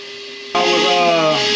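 A battery-powered vacuum cleaner starts up on an HVAC primary drain line, a low steady hum jumping abruptly into a loud, close, high whining roar that holds steady.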